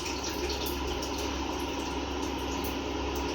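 Water for cooking egg, pea and saffron pulao pours or runs in a steady, continuous stream, a soft, even rushing that stays level throughout with no voices over it.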